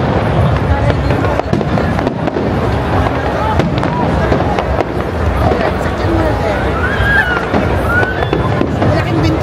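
Dense, continuous crackling and popping of the Calgary Stampede 2024 fireworks display fills the air, with sharp bursts and whistling streaks over a crowd murmuring in the background.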